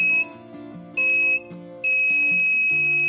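A laser tripwire alarm buzzer from a simple 5V laser diode and latch relay circuit gives three high steady beeps of rising length, sounding alone over a quieter chiming electronic tone pattern.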